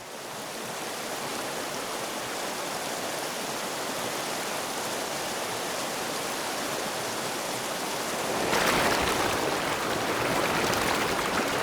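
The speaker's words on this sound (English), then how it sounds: "It's the rapids that provide the excitement on a journey like this" Open canoes run minor river rapids on a wilderness journey, the whitewater giving a steady loud rush of broadband noise that swells and grows harsher near the end.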